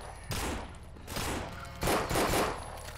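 Rapid Glock pistol fire in a video game comes in three short, loud bursts of shots separated by brief pauses, heard up close with no talking over it.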